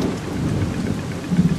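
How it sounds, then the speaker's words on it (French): Heavy rain pours steadily with a low rumble of thunder beneath it, a dense continuous hiss that swells briefly near the end, in a cartoon storm scene. "Il pleut abondamment."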